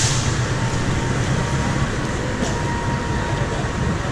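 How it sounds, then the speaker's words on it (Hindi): A train at a station in Indonesia gives off a steady low rumble and hum that holds evenly throughout, with no clear clatter or horn. "और ये है ट्रेन की पटरी, ये है ट्रेन।"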